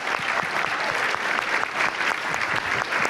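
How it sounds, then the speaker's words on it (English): Sustained audience applause at a science policy conference awards session, many hands clapping in a dense, even roar over three seconds, with a faint voice or two mixed in. "I think she deserves a big round of applause."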